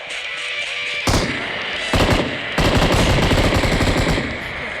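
Bursts of automatic gunfire in the mobile battle royale game PUBG Mobile, loud and close, coming in three rapid sustained volleys separated by short gaps.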